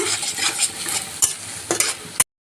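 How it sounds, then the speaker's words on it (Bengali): Onions fry loudly in hot oil in a pan for a tempering, with a constant sizzle and a few sharp spatula scrapes and taps against the pan before an abrupt stop. "আমরা খুব ভালো করে পেঁয়াজটাকে ভেজে নিচ্ছি বাগারের জন্য"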